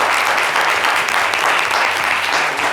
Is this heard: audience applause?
yes